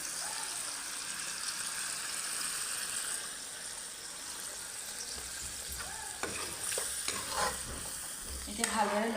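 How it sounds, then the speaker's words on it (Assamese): Chicken and potatoes in gravy sizzle steadily in a pan with a little added water, a continuous close frying hiss, then spoon scrapes and stirring clatter building toward the end. "এতিয়া ভালদৰে লৰাই অলপ টাইমৰ বাবে আলুটো সিজিবলৈ দিছোঁ।"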